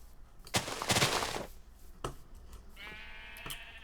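Minecraft sheep bleat once, short and clear near the end, after a few sharp chopping knocks and thuds from in-game activity.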